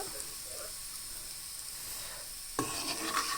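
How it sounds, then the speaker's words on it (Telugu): Potatoes being stirred with ginger garlic paste and turmeric in a pan, a soft steady sizzle with scraping that turns louder and busier near the end. "వేసుకొని ఈ విధంగా బాగా కలుపుకోవాలి పసుపు కూడా వేసేసుకొని బాగా కలుపుకోవాలి"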